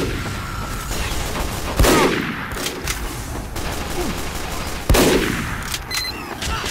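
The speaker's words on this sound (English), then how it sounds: "Who's shooting at what?" Gunfire in the video game Team Fortress 2, with two heavy sharp blasts standing out over a constant busy clatter of distant shooting and explosions.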